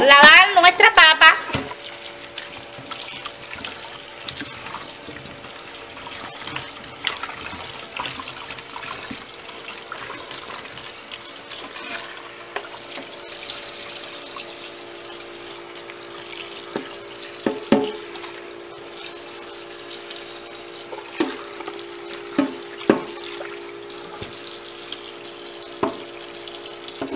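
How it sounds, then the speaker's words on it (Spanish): A kitchen tap runs while freshly peeled potatoes are washed under it, giving a loud splash at the start and then a steady stream with scattered knocks and clatters of potatoes and a bowl throughout. "aquí ya terminamos de pelar y vamos a lavar nuestra papa"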